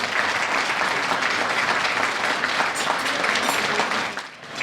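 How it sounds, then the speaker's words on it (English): Steady applause from a sizable crowd, loud and continuous for several seconds before tapering off at the end. "get a round of applause"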